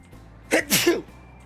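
A single sharp sneeze, a quick intake followed by a loud, breathy burst, up close in a quiet room with faint background hum.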